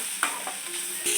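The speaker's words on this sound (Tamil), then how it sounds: "இந்த பச்சை மிளகாய் வந்துட்டு இந்த வெங்காயம் 2ம் நல்லா வதங்கணும்." Onions and green chillies fry in a pan with a loud, steady sizzle, and a utensil scrapes through them a few times as they are stirred.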